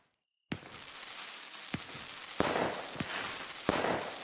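Atom Bomb firework in the game Fireworks Mania going off in a series of sharp cracks and booms, one after another at uneven intervals, each bursting out of a rushing, crackling wash, no talk.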